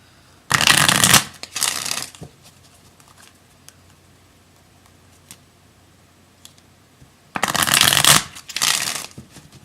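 Tarot cards are shuffled close up in two loud bursts, each a quick pair of riffles, separated by several seconds of near quiet.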